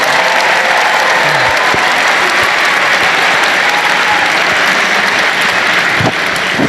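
A crowd gives sustained, dense applause for ACC basketball coaches, a loud steady wash of clapping that holds evenly throughout with no talk over it.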